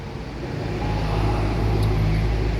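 A Sembodo Suites Combi bus on the West Sumatra route rolls into the Alang-Alang Lebar bus terminal, its deep engine rumble building steadily and staying loud and close throughout.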